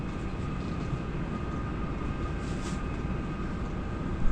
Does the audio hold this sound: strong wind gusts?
yes